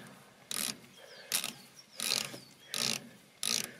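A ratchet wrench working loose tight wheel bolts on a horsebox, five separate bursts of quick clicking pawl ticks at a steady pace, close and clear with quiet gaps between strokes.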